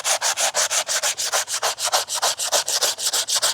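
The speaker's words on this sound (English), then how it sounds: "I'm gonna take this 80 grit, lightly go over it, knock that top section off, and make it a lot easier to sand." Hand sanding a fiberglass repair on cracked plastic car interior trim with 80 grit sandpaper: about twenty quick, even back-and-forth rasping strokes, loud and close, with no voices.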